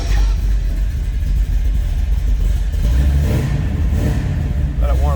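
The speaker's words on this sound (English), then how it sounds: "Very healthy sounding car. That 383 stroker underneath the hood." A 1969 Chevrolet Camaro Z28 with a 383 stroker V8 rumbles loudly and close just after a cold start, a deep throaty idle with swelling revs, while someone talks over it.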